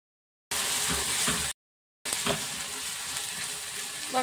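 Cauliflower pieces sizzle and fry in a hot pan for a home-style cauliflower roast, a steady close crackling hiss broken by a brief pause, then resuming with light stirring.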